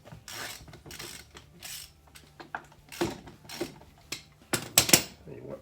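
Four-way lug wrench working tight, painted lug nuts on a 1942 Willys slat-grille jeep, a series of metallic clanks and ratcheting clicks at irregular intervals, close by and moderately loud, with no talk.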